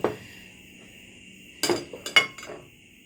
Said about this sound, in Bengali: একটা প্লেট নিয়ে নিলাম।